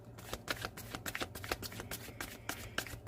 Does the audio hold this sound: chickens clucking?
no